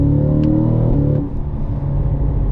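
A Cadillac CT5-V Blackwing with a 6-speed manual in motion, its engine droning loud and close, then a quick gear shift drops the tone and settles into a lower, rougher note.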